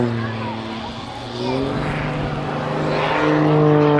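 A Pitts aerobatic plane pulls into a high-speed dive at the Yeovilton air show, its engine drone rising and shifting in pitch, loud and fairly close, under a commentator's voice.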